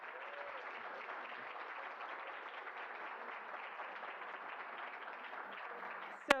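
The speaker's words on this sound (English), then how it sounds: "let's give yourselves a round of applause," An audience at the Health Inequality Summit applauds in a steady, even wash of clapping that holds at moderate volume throughout, ending with a brief sharp bump.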